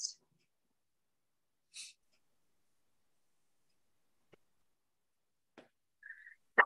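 A single short, faint sneeze bursts out at the start during a quiet improv comedy show, followed by sparse small noises and a brief exclamation near the end.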